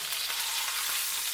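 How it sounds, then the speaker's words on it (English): Sirloin steak sizzles steadily in a hot pan just after being flipped, a dense, even hiss that stays loud and close for the whole moment with no voices over it. "I'm going to flip this."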